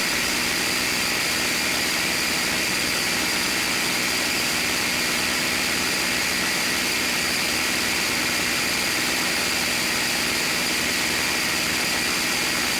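A P-51 Mustang fighter in level flight, its piston engine and propeller giving a constant loud, dense roar throughout with no voices.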